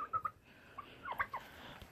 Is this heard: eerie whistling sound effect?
no